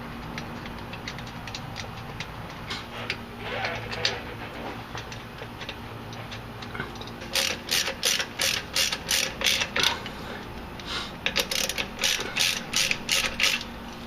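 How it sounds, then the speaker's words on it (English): Ratchet tightening sway bar bolts on a 1999-2004 Jeep Grand Cherokee, with Addco sway bar hardware: bursts of quick, crisp clicking, the busiest and loudest in the latter half, close up and with no talk. "Now simply just take your sway bar, push it up there like that, and install the bolts."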